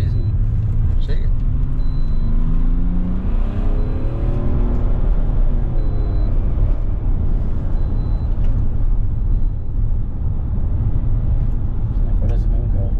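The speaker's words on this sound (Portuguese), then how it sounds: "Como é que está a aceleração? Leve. Parece que não tem peso o carro." A BMW 535d diesel engine, Stage 2 tuned, drones loudly and steadily, with rising tonal sweeps as it accelerates, a constant low rumble underneath throughout.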